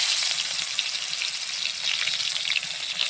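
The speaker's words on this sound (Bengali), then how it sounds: "তেলটা সুন্দরভাবে গরম হয়ে গেছে, আমি এখন মাছ দিয়ে দেব" Snakehead fish sizzles steadily in hot oil, a dense close crackle and hiss that holds at an even level throughout with no voices.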